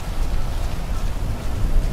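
Steady rain pours with a broad hiss and low rumble of strong wind in the video game GTA V, continuous and fairly loud throughout.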